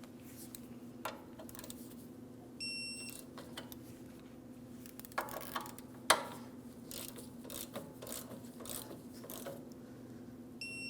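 A torque wrench tightens the 17mm mounting nuts on a 2003-2008 Toyota Matrix front hub, with faint mechanical ratchet clicks against a steady low hum.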